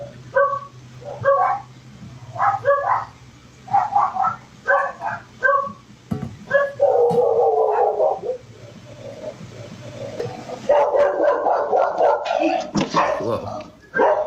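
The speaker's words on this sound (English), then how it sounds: "Oh, look behind you. There's a dog." Several dogs bark in short repeated bursts during a delivery, then break into longer whining whimpers, loud and close, with people talking over them at times.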